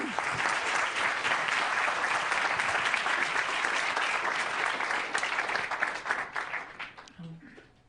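An audience applauds to welcome lecturer and artist Rebecca Belmore, a full, steady clapping from a large room that holds for several seconds and then tapers off into scattered claps.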